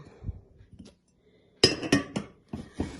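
A metal frying pan being handled, with several sharp clanks and knocks clustered near the end, close and fairly quiet.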